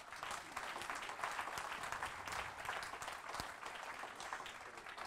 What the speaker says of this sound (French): donc je crois qu'on peut les applaudir un coup.